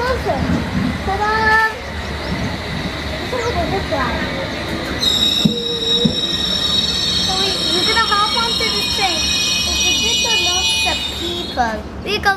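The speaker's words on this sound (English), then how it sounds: "Look, it is our train." A London Underground train rumbles into the station, its brakes and wheels squealing high and long as it slows, while nearby voices chatter over it.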